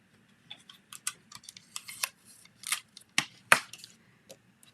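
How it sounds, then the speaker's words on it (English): Scotch tape pulled off the roll and handled during card making, giving a string of quiet, short crackling rips and taps at an irregular pace, with one sharper tear near the end and no talking. "I'm going to grab some Scotch tape."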